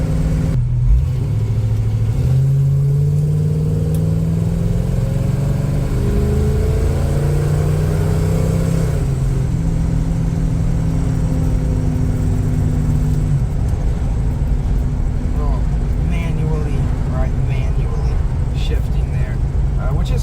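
A classic car engine revs and climbs in pitch, drops as a gear changes, then pulls again, loud and close, with road noise underneath.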